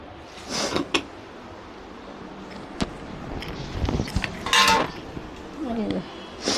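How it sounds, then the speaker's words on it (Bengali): A metal lid set onto a cooking pot on a stove, giving a few clanks and clinks of cookware close up, with a voice speaking in between. "এই যে ঢাকনা দিয়ে দিলাম।"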